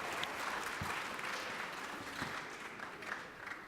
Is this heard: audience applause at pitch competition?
yes